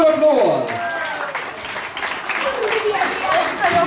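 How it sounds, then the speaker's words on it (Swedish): Applause from the crowd at an outdoor scooter competition as a rider's placing is announced, a scattered mid-level clapping that carries on under and around an announcer's voice. "Stor applåd!"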